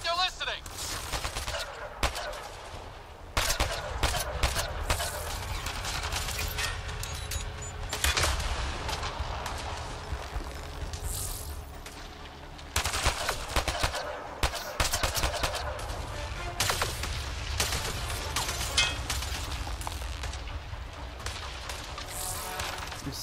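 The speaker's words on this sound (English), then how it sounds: "Fighting, shooting." Gunfire and explosions in the video game Mass Effect Andromeda, dense bursts of rapid shots and blasts running almost continuously, loud and close, with brief lulls between volleys.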